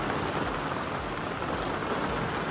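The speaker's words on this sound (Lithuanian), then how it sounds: "duoda kaip turi būti lietutis." Heavy rain pours down steadily at a sauna construction site, a dense, even hiss of drops hitting surfaces with no break and no voices.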